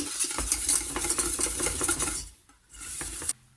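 Lemon cream being stirred in a pot for lemon cupcakes, a close utensil scraping and clinking against the pot in quick strokes, then a brief pause and a short final burst.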